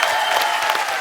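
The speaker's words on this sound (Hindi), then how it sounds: "मिस्टर नवाजुद्दीन सिद्दीकी, इनके लिए जोरदार तालियां हो जाएं" A studio audience breaks into steady, dense applause, many hands clapping at once with no single voice standing out.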